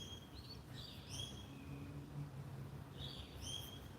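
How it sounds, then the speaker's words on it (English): Lorikeets, cockatoos and corellas call in repeated bright chirps and screeches, with a burst near the start and another toward the end, moderately distant over a steady low background hum. "All the lorikeets and cockatoos and corellas, and that's mainly what we've got at the moment"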